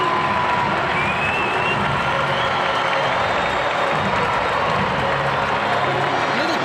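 Football stadium crowd roaring and applauding during Portugal versus Nigeria, a steady loud wall of cheering and clapping throughout, with faint commentary underneath.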